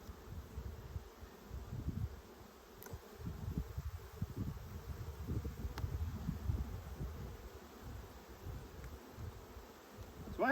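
Honeybees swarm and buzz around an opened hive while the brood chambers are inspected, a steady close drone with shifting low hum and scattered rustling, no talk.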